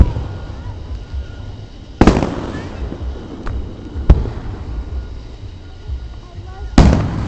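At an outdoor fireworks show in Hot Springs, Arkansas, several loud booming bursts and sharp cracks go off at irregular intervals, with crackling tails between them under a faint murmur of onlookers.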